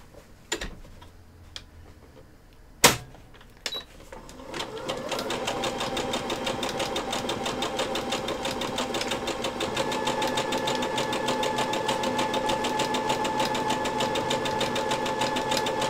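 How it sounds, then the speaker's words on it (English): Sewing machine running steadily after a few sharp clicks and knocks, a close, continuous rapid mechanical whir and ticking that keeps going at an even pace, no talking. "Sewing machine seems to be running fine today."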